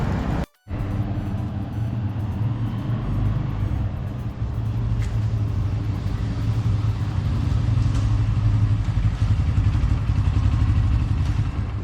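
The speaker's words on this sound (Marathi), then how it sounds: "आता बाईक घेऊन आलो." A newly bought motorcycle is ridden home, its engine giving a loud, continuous rumble with road clatter and wind noise. There is a brief cut-out near the start, then the drone carries on steadily.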